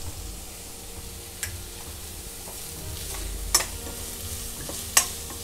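Minced garlic and ginger sizzle steadily in a hot pan for a fried chilli fish dish, with a continuous frying hiss and a few sharp utensil scrapes as the pieces are stirred, close and fairly loud, no talking.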